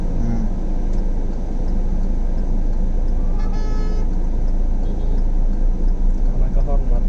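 A car horn honks in a short burst amid steady road traffic rumble, with voices talking nearby over the engine noise.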